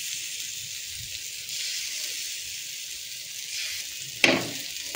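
Pitha frying in oil on a tawa gives a steady, fairly loud sizzle throughout, with one sharp clack near the end.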